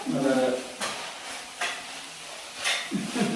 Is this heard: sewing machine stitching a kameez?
no